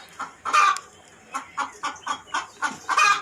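Chickens in a separate shed on a farm house cluck in quick, close bursts, with about eight short calls following one another in an uneven rhythm and no talk over them.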